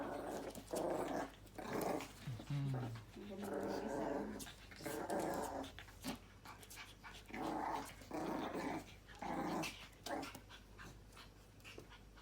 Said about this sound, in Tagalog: Ayaw ni Charlie na hawakan ni Undin na iyan ang paa niya. Wrestling.